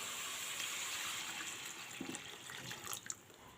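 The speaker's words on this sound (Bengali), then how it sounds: "তো এর মধ্যে আমি পরিমাণ মতো জল দিয়ে দেবো" Water poured into a pan of fried spice masala for a home-style sea fish curry, a steady rushing pour with faint splashes, heard alone.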